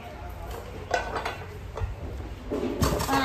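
A set of non-stick frying pans is handled, giving soft metallic knocks and clatter at irregular moments over a quiet background, with no talking.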